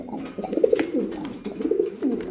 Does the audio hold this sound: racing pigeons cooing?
yes